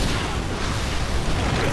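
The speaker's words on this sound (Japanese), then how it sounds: "大爆発。" A big explosion in the video game Resident Evil 6 fills the moment with a dense, loud, sustained roar and rumble, a broad blast of noise with no pause over its short span.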